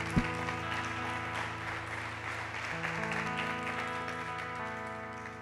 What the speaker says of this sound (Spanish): Le damos un aplauso al Señor por tu vida.